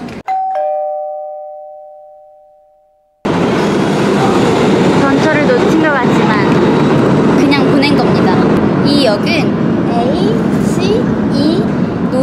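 A two-tone chime sounds and fades, then a New York subway train roars in close, a dense rumbling rush with metallic squeals and rattling.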